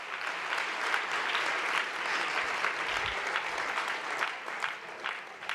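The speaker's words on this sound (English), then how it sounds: "Give yourselves a round of applause" Steady, full applause from an audience at the Outstanding Mother Awards nonprofit event, a dense wash of clapping continuing evenly throughout with no break.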